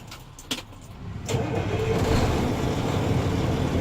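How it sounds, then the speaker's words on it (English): A manual-transmission truck engine cranks and catches, rising from a few clicks and rattles into a steady, loud idle rumble heard from inside the cab. "When you go to start the truck, even though this truck will start without pushing the clutch, you got to push the clutch anyway."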